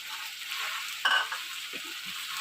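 Spices and tomatoes frying in a pan for achar gosht, a steady hiss of sizzling oil with a short sharper burst as something is stirred in, then continued frying.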